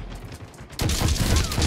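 A sniper rifle shot in a fast-paced online shooter game: a quiet lead-in, then an abrupt loud report that opens into a dense, rumbling burst of gunfire and noisy action that carries on to the end.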